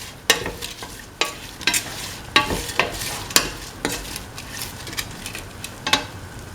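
Spoon stirring salt into a lentil and snake gourd mixture in a pan, a run of short scraping strokes with a soft sizzle underneath, close and moderately loud, no voices.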